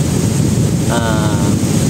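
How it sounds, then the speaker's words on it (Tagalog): Strong wind buffets the microphone at a campsite with a constant loud roaring rush, and a brief tonal hum briefly rises through it midway. "dahil medyo mahangin"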